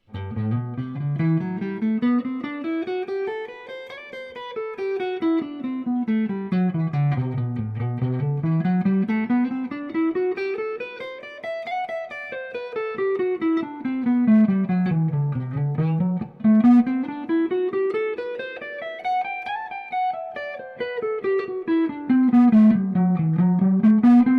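A guitar plays a scale exercise for learning the fretboard, with clear single notes climbing and descending in steady repeated runs that rise and fall several times, played alone and close.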